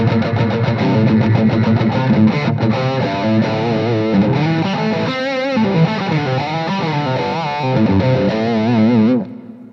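Electric guitar played through an AMP1 amplifier with built-in reverb, loud distorted chords and ringing sustained notes with a chorus-like shimmer, played alone for nearly ten seconds before stopping abruptly.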